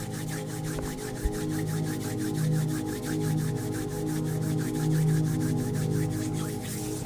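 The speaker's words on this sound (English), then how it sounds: "gently rub them together" Hands gently rubbing together in a quiet morning meditation, soft regular back-and-forth strokes repeating steadily over a sustained, droning musical backdrop, with no talking.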